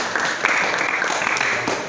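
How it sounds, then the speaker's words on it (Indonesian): Classroom audience applauding a presenting group in an automotive engineering teacher-training session, a short steady burst of clapping from a modest group, close and fairly loud, with a few voices mixed in. "tepuk tangan untuk kelompoknya Mas Rana ya"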